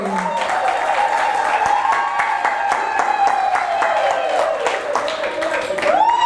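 Audience clapping at a breast cancer awareness event as a doctor is called on stage, steady applause under a loud voice speaking over it throughout.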